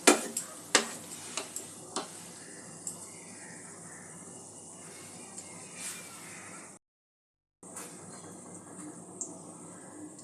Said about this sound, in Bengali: একটু মুচমুচে করে সময় নিয়ে ভেজে নিতে হবে।